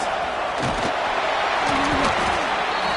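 A football stadium crowd roars steadily behind the defense on a big third down in the red zone, a broad continuous wall of cheering with a commentator talking over it.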